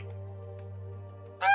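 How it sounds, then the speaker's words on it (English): A gray duck gives a sustained, nasal, honking call that holds steady for over a second, ending in a brief, sharper, higher burst, heard alone and close. "A gray duck."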